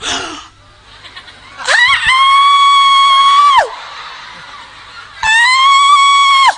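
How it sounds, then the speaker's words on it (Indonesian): Crowd of high school students in a school hall letting out loud, sustained screams in two bursts with a quieter gap between them. "Berteriak. Stop, gak usah teriak."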